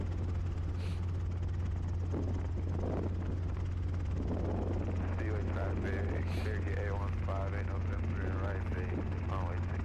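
A small American-made Robinson helicopter in flight gives a steady, loud rotor and engine drone throughout, with a person talking over it.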